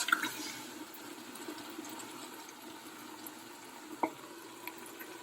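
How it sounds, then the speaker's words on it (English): A whole 28-ounce can of crushed tomatoes is poured into onions frying golden for tomato soup, giving a steady, fairly quiet wash of hiss and sizzle with one brief clunk near the end and no talk. "Our onions are getting nice and golden, and now I'm going to add the whole can of crushed tomatoes"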